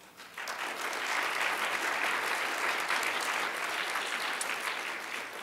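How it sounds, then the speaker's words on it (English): Steady round of audience applause at an academic society's award ceremony, rising quickly and holding full and dense throughout, with no talk over it. "I'd like to at least honor him by giving him a round of applause"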